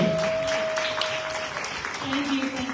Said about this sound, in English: let's give a round of applause to welcome Miss Ruth Augustine